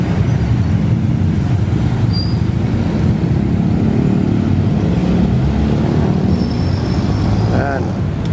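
Steady roadside traffic at a Philippine street corner on the road toward Alabang: a dense, continuous rumble and hiss of passing cars and larger vehicles, loud and close, with a faint higher tone near the end.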